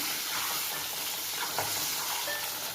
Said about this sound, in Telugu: ఫస్ట్ ఎగ్స్ వేసుకున్నాను. ఎగ్స్లో కొంచెం పసుపు సాల్ట్ కూడా వేసాను.